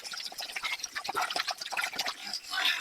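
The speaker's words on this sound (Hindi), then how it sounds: "नूडल्स को हम अभी ये ठंडे पानी से थोड़ा गुजार लेंगे ताकि ये हमारे नूडल्स जुड़े ना।" Boiled vegetable noodles get rinsed under cold running water in a home kitchen, giving a continuous close splashing and trickling with irregular drips and no talk.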